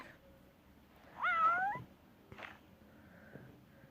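One clear, drawn-out cat meow from the video game Toca Life World rises out of a quiet room, followed by a couple of faint soft noises.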